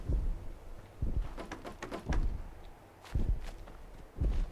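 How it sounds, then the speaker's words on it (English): Heavy, booming footsteps of a giant super mutant behemoth in the Fallout 4 video game, about five slow thuds spaced roughly a second apart, moderately loud against a quiet background. "Those are big footsteps."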